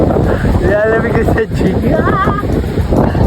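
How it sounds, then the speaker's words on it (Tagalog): Strong wind buffets the microphone at a beach resort in Batangas, a constant loud roar with surf noise underneath, while people talk over it. "Pero super-duper lakas talaga ng hangin dito."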